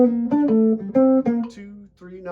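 Electric or clean guitar runs through a bebop dominant scale in a lower position, a string of clear single picked notes stepping up and down at a moderate pace, close and alone with no talk.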